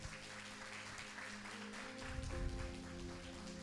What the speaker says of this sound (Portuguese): Vamos dar uma salva de palmas a Deus